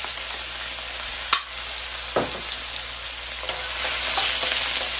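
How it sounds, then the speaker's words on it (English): Scallions hit smoking-hot oil in a high-heat stir fry for a rice dish, giving a steady loud sizzle and crackle with a couple of sharp spatter pops, no talking. "first the oil. Okay, smoking, but not exactly catching on fire. That's a good start. In goes the scallion."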